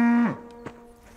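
A cow on a Latvian farm gives one loud, close moo that cuts off suddenly and is followed by faint barn noises. No one speaks.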